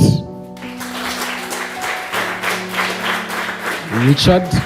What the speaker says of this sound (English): Please clap for Richard.